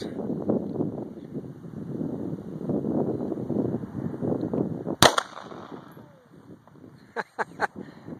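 Guns, including a semi-automatic pistol, fired at targets outdoors: one sharp, loud shot cracks out after several seconds of wind rumble, followed a couple of seconds later by a quick cluster of three fainter shots.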